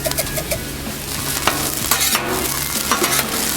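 Food sizzling and crisping on a Blackstone griddle for a steak and eggs breakfast, with steady frying hiss and scraping spatula strokes and clicks at irregular intervals, close up and without talking.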